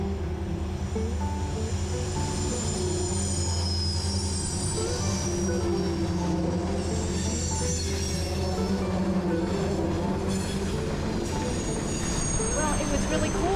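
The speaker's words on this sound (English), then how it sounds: "when a train was above us so close" A train passing close overhead on railroad tracks in the Pennsylvania wilderness, a loud continuous rumble with squealing wheels and clanking carriages, sustained throughout with some voices underneath.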